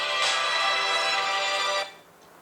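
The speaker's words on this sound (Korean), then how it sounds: "아들한테 전화 왔네." A mobile phone rings with an incoming call in a home kitchen setting, a bright melodic ringtone playing steadily and loudly for under two seconds before cutting off and fading.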